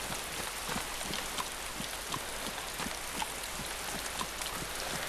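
Heavy in-game rain in the survival game DayZ falls steadily and densely, a continuous hiss of drops with faint patter spikes throughout, no voices.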